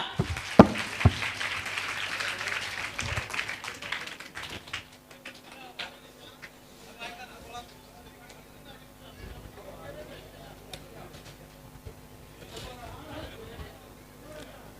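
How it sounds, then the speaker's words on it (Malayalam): An audience at a mentalist's stage performance bursts into a short round of clapping that dies away within a few seconds, followed by quiet room noise and someone speaking. "എല്ലാവരും ക്ലാപ്പ് ചെയ്യാ."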